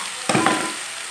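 Curry leaves hitting hot oil, a sudden loud burst of sizzling that crackles briefly and then fades into a softer hiss.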